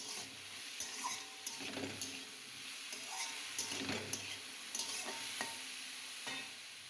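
Chopped eggplant frying and being stirred in a pan, a steady close sizzle broken by irregular scraping strokes of a spatula, with no voices.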